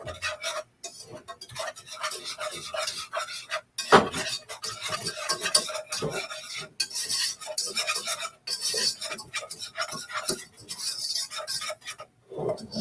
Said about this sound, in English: I have to stir this constantly, I guess.